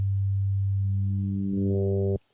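A steady FM-synthesized tone built from sine waves in Ableton Live drones alone, gaining brighter upper harmonics partway through before cutting off abruptly.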